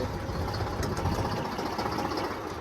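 A farm tractor engine runs steadily at night while cultivating a field beside a river. It makes a loud, continuous rumbling drone with a slight knocking texture, heard alone without any voices.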